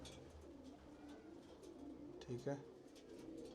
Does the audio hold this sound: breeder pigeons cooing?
yes